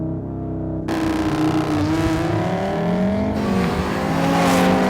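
An Audi RS3 hot hatch with a 362bhp engine launches from a standstill using launch control, its loud engine climbing steadily through the revs with a sharp rise in pitch and a brief gearshift dip, heard close from inside the cabin.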